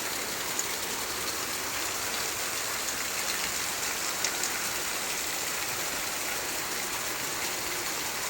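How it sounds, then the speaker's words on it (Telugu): Heavy rain falls steadily over Kollapur town at night, a dense, even hiss of drops on roofs and flooded roads, continuous and moderately loud with no voices. "కొల్లాపూర్ పట్టణంలో భారీ వర్షం కురుస్తున్నది"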